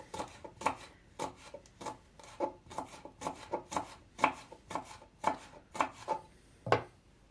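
A knife chops garlic and parsley on a board with quick, crisp knocks coming in an uneven rhythm of about a dozen strikes. The sound is close and fairly loud and has no talk over it.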